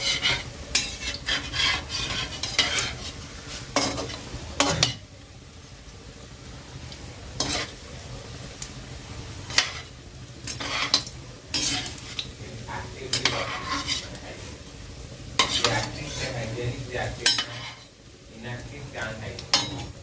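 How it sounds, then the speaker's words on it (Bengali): Bottle gourd koftas fry in hot oil, a continuous low sizzle broken by repeated metallic clinks and scrapes of a utensil against the pan, close and busy throughout. "কোপ্তার দুটো সাইডেই ভালোভাবে ভাজা হয়ে গেছে, এবার তুলে নিচ্ছি"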